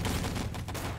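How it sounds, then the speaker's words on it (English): Gunfire in the online shooter Wolfenstein: Enemy Territory, a dense, continuous burst of rapid shots packed into a brief second of game action, loud and without voices. "Somebody's shooting me."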